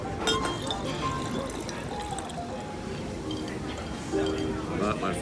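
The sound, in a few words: pouring water into a morning drink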